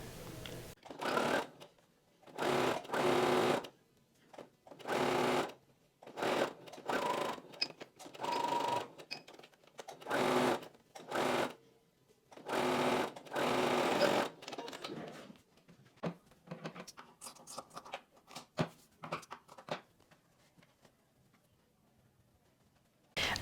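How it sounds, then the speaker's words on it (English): A sewing machine runs in repeated bursts of stitching along a 1 cm seam allowance on a top, with short pauses between runs and softer handling noises near the end. "I'm going to sew with the 1 centimeter seam allowance along here."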